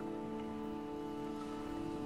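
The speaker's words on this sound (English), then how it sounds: "Oh, it's starting to rain." Steady rain falling on a surface, a continuous dense patter at even loudness with no voices over it, under a droning tonal hum.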